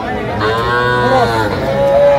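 A young bull calf at a cattle farm lets out a drawn-out, close moo that rises and wavers in pitch and holds to the end.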